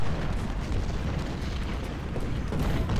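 Cannon fire aimed at a Confederate unit in the Ultimate General: Civil War game, during the Battle of Philippi, heard as a continuous loud rumble of booming artillery filling the whole stretch with no speech.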